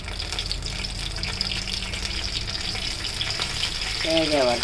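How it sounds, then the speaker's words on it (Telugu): Cumin seeds and dried red chilies fry in hot oil for mango pulihora, giving a steady crackling sizzle throughout. Near the end a brief scrape or clatter comes in over the frying. "జీలకర్ర వేసి 4 ఎండుమిరపకాయలు వేసేసి వేగే వరకు"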